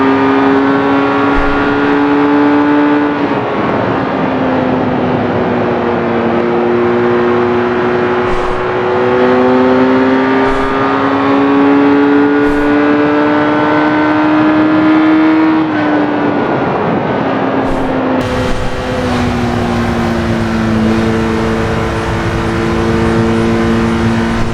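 A Kawasaki 1200R motorcycle engine in the RIDE video game revs hard and steadily, with pitch rising and falling through several gear shifts over a sustained loud drone, no talk.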